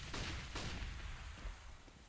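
Grenade explosions go off in a Counter-Strike match, with several dull blasts and bursts of gunfire-like cracks in quick succession. They sound distant and fairly faint under the game's noise.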